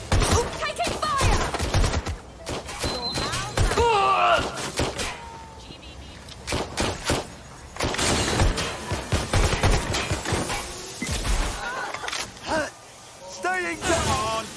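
Gunfire during a firefight in Watch Dogs: Legion, sharp repeated shots and thuds in irregular bursts, mixed with shouting game voices and background action.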